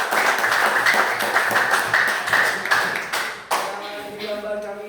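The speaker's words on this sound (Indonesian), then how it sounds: "Tepuk tangan." A small audience claps after a group presentation at a teacher-training assessment session, with dense, uneven hand claps for about three seconds before they thin out as a voice begins speaking.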